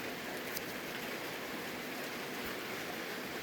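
Steady rain falls outdoors, a constant even hiss of drops with occasional sharper taps, unbroken and moderately loud.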